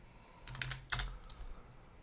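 A few quick keystrokes on a computer keyboard, light close clicks bunched in a short burst with one louder tap in the middle, alone in a quiet room.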